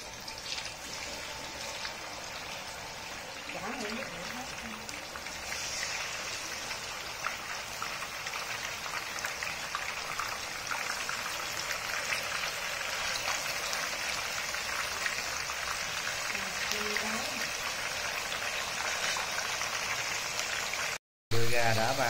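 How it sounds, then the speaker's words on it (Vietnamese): Steady crackling sizzle of chicken thighs frying in hot oil, loud and continuous throughout, with a brief cutout near the end. "Mình cũng được chiên mấy cái đùi đó cả nhà."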